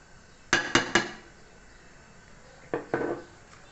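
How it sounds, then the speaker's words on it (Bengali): A spoon clinks against a pot while cornflour is stirred into milk for a carrot milk dessert: three quick sharp taps, a pause, then two more clinks. "কর্নফ্লাওয়ার দিয়ে নাড়াচাড়া দিয়ে মিশিয়ে নিচ্ছি।"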